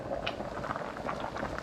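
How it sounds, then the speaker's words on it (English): A pot of water with corn in it at a rolling boil, a busy bubbling and popping close by with a soft rushing wash behind it, no voices. "Came to a boil, folks."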